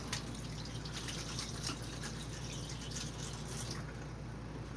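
Tap water runs steadily into a sink while sugar-covered hands are washed, a close constant hiss and patter with brief splashes, no voices.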